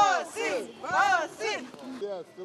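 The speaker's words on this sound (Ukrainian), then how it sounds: "Тернополяни, які прийшли побачити рекорд, підтримують Василя Шевчука вигуками." Onlookers at an outdoor winter record attempt in Ternopil shout encouragement in several rising and falling voiced bursts, fairly close and loud, with no other sound between the cries.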